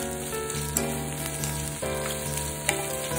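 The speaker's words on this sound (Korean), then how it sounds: "이제 웍을 달군 후 식용유 두 큰술을 두르고 양배추, 양파, 당근, 고추, 대파를 넣고 볶아주세요." Cabbage, onion, carrot, chili and scallion stir-fried in a hot wok with two tablespoons of cooking oil for squid rice bowl, producing a steady sizzle with occasional stirring clicks, close and without talk.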